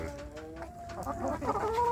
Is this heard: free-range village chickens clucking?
yes